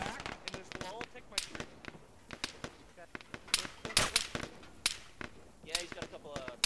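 Gunfire in a ShackTac military game crackles as a scatter of sharp, irregular shots and bursts at a moderate distance, fairly faint overall.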